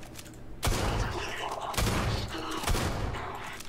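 Gunfire in the video game Starfield, three heavy blasts in quick irregular succession over a busy, noisy combat background.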